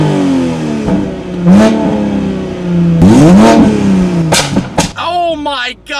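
A car's engine revs hard in sport mode with its exhaust baffles open, a loud, bassy snarl that rises and falls through several throttle blips, ending in sharp bursts with voices mixed in.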